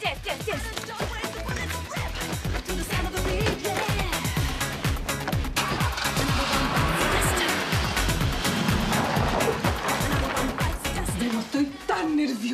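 A car pulling away with engine revving and tire noise, fairly close and continuous, with voices talking over it before it fades near the end.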